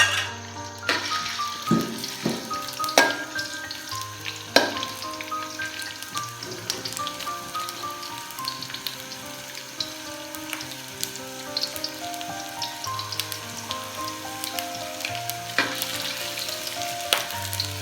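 Ginger sizzling in hot oil in a wok, a steady close crackling fry with scattered pops and light clinks throughout, no talking.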